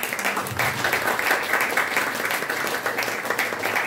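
Applause from a school audience at an English debate competition after a speech: a few seconds of dense, steady clapping from a modest crowd at moderate level, with no talk over it.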